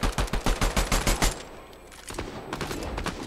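Fortnite gunfire: a fast, loud automatic burst of about a dozen evenly spaced shots, then a brief lull and more scattered firing further off.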